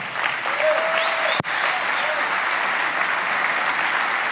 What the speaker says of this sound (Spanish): creo que se merece un aplauso el creador